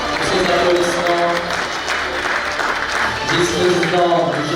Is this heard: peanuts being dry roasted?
no